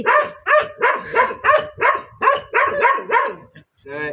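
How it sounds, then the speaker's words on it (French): A dog barks about nine times in a steady, rapid series, close and loud, ending with a short whine. "Ah, l'autre qui aboie, Skti."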